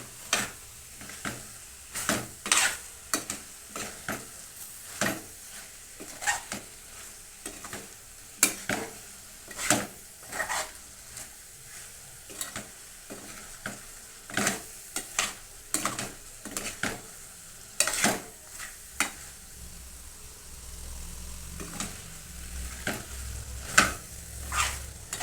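Biryani rice being mixed with spicy masala in a pot, giving repeated scraping, clinking stirs in an uneven rhythm over a soft background hiss, close and moderately loud, no talking.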